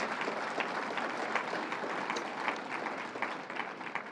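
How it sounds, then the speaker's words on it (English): Applause for Mayor Byron Brown at Governor Cuomo's tax fairness campaign event: a continuous wash of clapping from an audience, fairly soft and even throughout. "Mayor Byron Brown, give him a round of applause for how he handled it."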